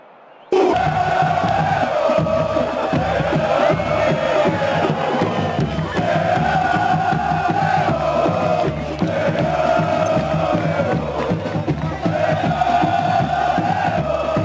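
Roaring stadium crowd cheers a goal in the PC football game PES 2010, a loud sustained swell of cheering and chanting with rhythmic low drumming underneath, steady throughout after a quiet first half-second.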